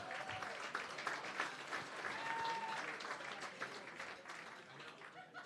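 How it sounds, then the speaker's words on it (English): Audience applause at a gala evening fills the room steadily throughout, a dense patter of many hands clapping, with a faint voice briefly audible beneath it. "A round of applause to them,"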